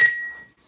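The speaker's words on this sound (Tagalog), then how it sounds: "ilagay ko na lang siguro itong baso." A drinking glass is set down in a home kitchen, giving a single bright clink that rings briefly and fades within half a second.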